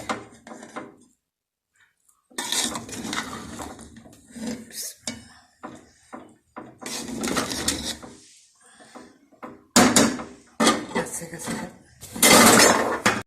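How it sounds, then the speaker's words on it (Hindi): Keema biryani rice being mixed in a cooking pot, a spoon scraping and clattering against the metal in intermittent bursts with short quiet gaps, close and fairly loud. "ये देखिए चावल मैंने अच्छी तरह मिक्स कर लिए।"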